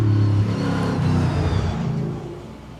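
A Ford Mustang race car at the Goodwood Festival of Speed rumbles deep and loud, its engine revving in a throaty roar that fades slightly as it moves away.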